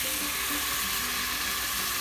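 Octopus with chopped tomato sizzles steadily in a hot pan as it is stir-fried, a close, continuous hiss with faint stirring scrapes.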